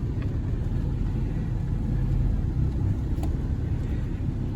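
A Geo Tracker driven on a test run after a clutch replacement, a steady low engine and road rumble heard from inside the cabin, continuous and even.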